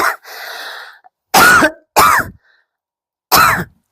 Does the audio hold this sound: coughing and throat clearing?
yes